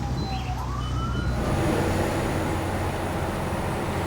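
A distant police siren wails with rising and falling tones over steady road and engine noise from inside a moving vehicle.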